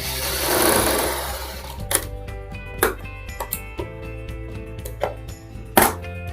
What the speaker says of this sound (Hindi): मैंने बिल्कुल सेंटर में सिलाई लगा ली